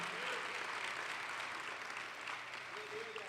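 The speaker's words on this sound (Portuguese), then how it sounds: "dê um aplauso ao Senhor" A church congregation applauding during a sermon, a steady, even spread of many hands clapping, heard from a distance and quiet, with a faint voice sounding through it.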